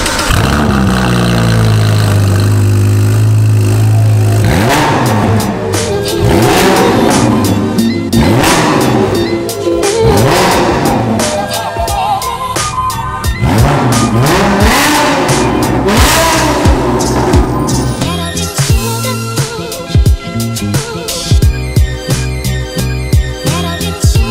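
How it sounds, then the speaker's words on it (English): Gumpert Apollo supercar with a straight-through Novatec exhaust, idling with a deep burble, then revved repeatedly in loud, sharp surges that crackle and pop between blips, close by. "It sounds so good, and straight through Novatec exhaust as well."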